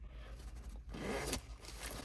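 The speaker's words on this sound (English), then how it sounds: "The zipper is super cool. I hope you guys can see this." A thick zipper on a Coach bag is pulled in one quick, close rasping stroke, with a brief scrape before it and quiet handling afterward.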